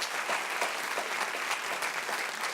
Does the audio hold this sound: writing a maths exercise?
no